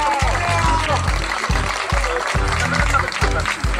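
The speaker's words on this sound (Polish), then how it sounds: "Wielkie brawa." A crowd claps at an outdoor running race ceremony, with steady applause running beneath booming music with a pulsing bass beat throughout.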